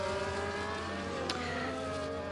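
A race car in a sim-racing video game at Abu Dhabi, its engine droning steadily as one car passes another on the left, with a brief sharper burst partway through, no voices.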